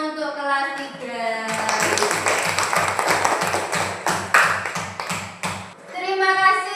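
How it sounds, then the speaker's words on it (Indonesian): Rhythmic group clapping from a third-grade class, an even series of patterned claps in unison, bracketed by children's voices chanting before and after. "Tepuk tangan untuk kelas 3."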